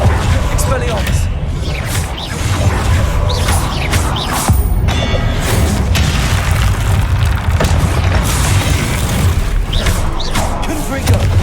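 Spell blasts and explosions from Hogwarts Legacy rumble in a loud, continuous barrage of booms and thuds, with character voices calling out spells over the combat.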